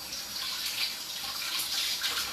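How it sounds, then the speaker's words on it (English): Tap water runs steadily into a kitchen sink while hands are washed, a soft continuous hiss and splash at close range with slight swells, no talk over it. "I need to wash my hands."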